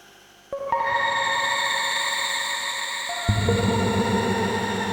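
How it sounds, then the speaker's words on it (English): A sustained, shimmering tone from a shimmer reverb effect on a deconstructed reverb module swells and rings with bright, octave-high overtones, then shifts lower partway through while the airy wash keeps sustaining. "Turning it past 12 o'clock brings up a shimmer effect."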